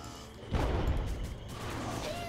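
Nova explosions in the game Titan Quest Immortal Throne: a sudden loud blast burst, followed by a sustained crackling, rumbling wash of spell effects with faint tonal chimes.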